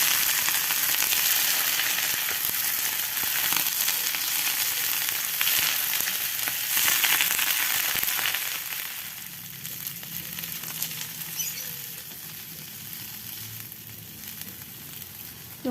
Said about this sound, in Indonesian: Kemudian ini kita aduk.